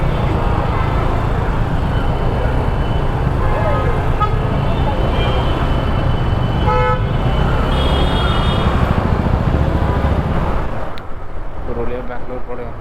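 Heavy, jammed road traffic in Bengaluru near Hebbal: a loud, continuous roar of cars, buses and trucks with repeated car horns honking, and voices mixed into the din.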